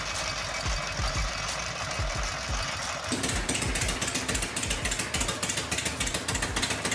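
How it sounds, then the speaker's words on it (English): A homebuilt 45-degree V-twin engine runs at its first start, with late ignition. It knocks out an uneven, loping beat close to the microphone, and the tone shifts partway through as the revs change. "this is absolutely normal for a 45-degree V-twin engine"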